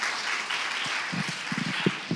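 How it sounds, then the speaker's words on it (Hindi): Audience applause at the ABP Impact Makers Conclave 2024 in India, a broad wash of clapping with a few distinct, closer hand claps standing out toward the end. "इसी बात पे एक बार जोरदार तालियां हो जाए."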